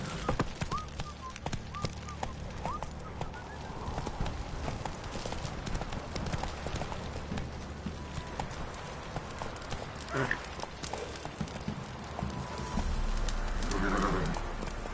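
Roach, a horse in a video game, gallops with a fast, continuous clip-clop of hooves that stays close and steady throughout, with a brief whinny or voice rising near the end.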